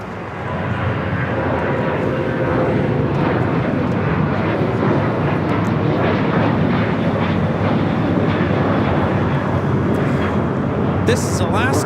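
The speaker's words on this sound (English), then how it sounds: "This is Alaska Airlines 1315 taking off to Portland on the 737-800" An Alaska Airlines Boeing 737-800 takes off from LAX bound for Portland with a loud, sustained jet roar throughout, while voices speak faintly beneath it.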